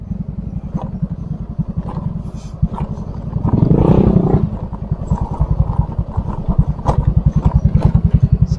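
A motorcycle engine putters steadily up close with a rapid, throbbing rhythm, briefly swelling louder midway as the bike rolls along a narrow path beside rice fields.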